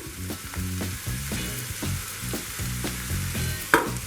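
Steady sizzling and crackling of salted, sliced mushrooms frying in a pan, with light scraping and stirring clatter and one sharp knock near the end.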